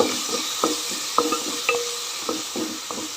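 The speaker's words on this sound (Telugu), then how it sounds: "ఇప్పుడు పసుపు వేసుకున్నాం పసుపు వేస్తా ఇప్పుడు బాగా కలిపేసుకున్నాం కలిసేలాగా" Turmeric is stirred into mint chutney in a pan over a steady sizzle, with a spoon clinking against the metal in scattered taps, close up and without talk.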